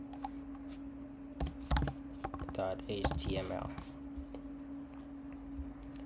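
A file name is typed on a computer keyboard, a burst of rapid close key clicks in the middle with a few scattered taps before and after, over a steady low electrical hum and a voice talking.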